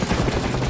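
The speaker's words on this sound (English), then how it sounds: "Who the hell has helicopters out here?" Helicopter rotor chop in the video game Far Cry Instincts, a steady broadband whirring throb with a pulsing low rumble, loud and continuous throughout the short moment, with no speech.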